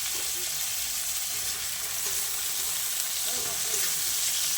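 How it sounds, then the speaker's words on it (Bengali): Cashews and raisins fry gently in a mix of ghee and white oil over turmeric, garam masala and whole spices, giving a steady, close sizzle throughout with no talking. "এটা হালকা হালকা করে ভেজে নিয়ে আর এখানে আমি ঘি আর সাদা তেল দুটোই দিয়েছি"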